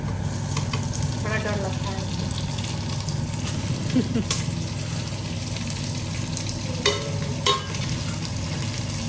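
Onion frying in a pan while making chole, a continuous close sizzle with occasional stirring scrapes, while someone talks briefly over it.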